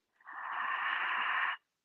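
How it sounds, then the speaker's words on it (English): A single soft, steady breath from a breathing exercise, a long airy exhale with a gentle ocean-like hiss, lasting just over a second before stopping. "It's a soft breathing like an ocean"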